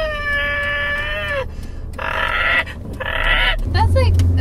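A human voice imitates the squawk of a bird from the Angry Birds game, like a dying ostrich, in strained, wavering cries in several bursts between pauses, close to the mic.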